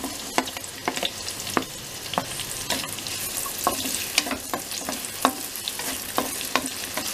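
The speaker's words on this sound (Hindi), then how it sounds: "और इसको 2 मिनट तक हल्का सा इस तरह से भून लेते हैं।" Roughly chopped onion sizzling in hot cooking oil, a steady fry hiss broken by frequent sharp scrapes and taps of a spoon stirring, close and fairly loud with no talk.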